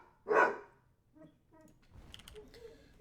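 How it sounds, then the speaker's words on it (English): Dogs squabbling among themselves, with one loud bark or yelp up close followed by quieter scuffling, whimpering and small yips. "My dogs are settling things amongst themselves"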